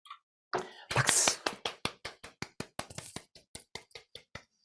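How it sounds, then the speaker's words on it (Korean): An audience at a Korean education talk on effort versus talent praise claps at the close of a presentation, about twenty sharp, evenly spaced claps ringing out after a brief murmur, close and fairly quiet, thinning toward the end. "박수."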